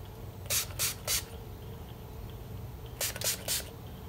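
Two sets of three quick hissing spritzes from a lavender sleep mist spray bottle, close and crisp, separated by a quiet pause.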